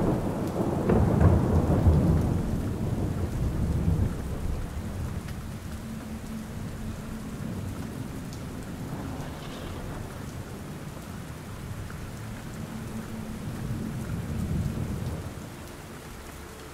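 Steady rain falls throughout, with low rolling thunder rumbling loudest near the start and again later, a dense, even wash of storm sound with no voices.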